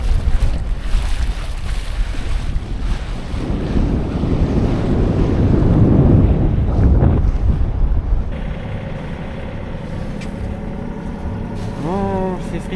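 Wind rushes steadily over a sailboat on open water off Greece, with gusty microphone buffeting and water sounds building in the middle, while voices talk at times.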